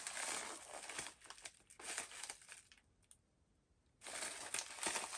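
Peel-off seal being pulled from the back of a Blu-ray package: close crinkly plastic rustles in two bursts, a short quiet gap, then another crackling stretch, with no talk.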